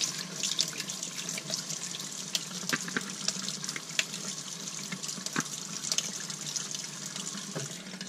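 Tap water runs steadily over a sprayer part from a Graco Ultra cordless handheld airless sprayer held under the faucet, a continuous hiss and splash into a sink with small irregular spatters, fairly close and alone.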